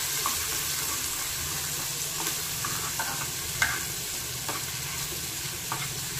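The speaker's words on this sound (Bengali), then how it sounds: "আর একটু দিয়ে দিচ্ছি রসুন বাটা। এবার সুন্দর করে কিন্তু এটাকে ভাজতে হবে।" Asafoetida and garlic paste fry and get stirred in hot oil, a soft steady sizzle broken by scattered light pops and scrapes. No one speaks.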